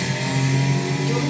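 Car accelerating with turbo in a racing video game, a constant loud engine whine and roar throughout the short stretch, with no voices.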